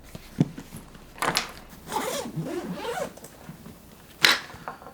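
A zipper on a camera bag is drawn open in several pulls, a rasping zip with short taps and rustles around it, close and fairly quiet, with no one speaking.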